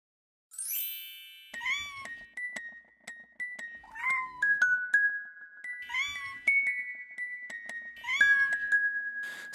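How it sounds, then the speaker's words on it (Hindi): A cat meows repeatedly in clear, high, drawn-out cries, close by, with bright ringing tones and chimes sounding alongside. "सारा की बिल्ली है प्यारी बहुत, नाजों से उसने है पाली बहुत"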